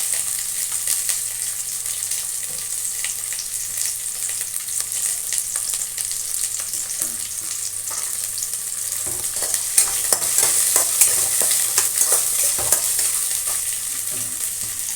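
Ginger and garlic frying with small onions in hot oil, a continuous close sizzle with stirring scrapes that grow busier and louder toward the end, no voices.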